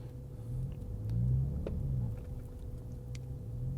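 A 2022 Ford Raptor (Gen 3) crawls up a hill at about 1 km/h, giving a low, steady engine rumble that swells slightly midway before settling, heard fairly close with no talking.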